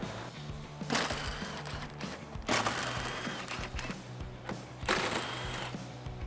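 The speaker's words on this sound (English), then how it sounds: "So grab your 10mm and get all 3 of them off." A 10mm socket ratchet works headlight bolts loose on a 2004-2008 Ford F150, with rapid clicking that rises and falls in a steady rhythm and three stronger bursts, close and fairly quiet.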